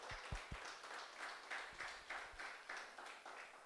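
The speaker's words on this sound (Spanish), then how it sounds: "Denle un aplauso al Señor." A church congregation claps during a Spanish-language evening service, faint and rhythmic, the claps falling in an even repeated beat for a few seconds.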